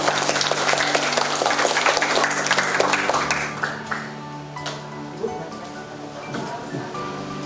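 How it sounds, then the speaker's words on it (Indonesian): An audience claps loudly and continuously, then the applause thins and fades into scattered claps and room noise as it trails off. "Tepuk tangan."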